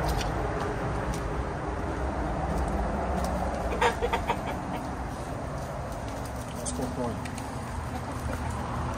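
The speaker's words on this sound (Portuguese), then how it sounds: "Aí os pássaros da galinheira." Free-ranging chickens cluck and call around a henhouse on a small rural farm, steady and fairly close. Outdoor ambience and a low voice run underneath.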